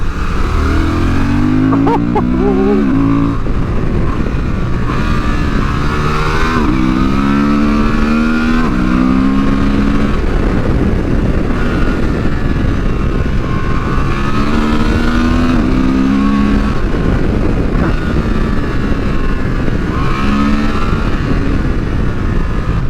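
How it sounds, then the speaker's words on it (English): Loud 2023 Honda Transalp XL750 adventure motorcycle engine revving up and down repeatedly, with a throaty intake roar rising and falling in pitch, close and continuous. "It makes the most wonderful intake noise"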